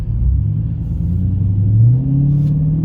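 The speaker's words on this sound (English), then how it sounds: "I've been enjoying the exhaust notes on this ride" A loud, deep 6.1L Hemi V8 engine in a Chrysler 300C SRT8 with Dynomax Race Bullet exhaust rumbles close by and rises in pitch as it accelerates, the exhaust note climbing steadily.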